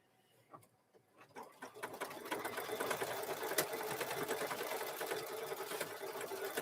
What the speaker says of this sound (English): We've got the thread loaded in there. We're going to start stitching